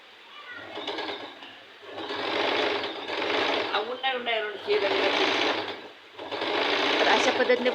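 A sewing machine stitches fabric for a katori-style blouse front, running in steady whirring bursts with short pauses between, close and loud, while someone talks over it.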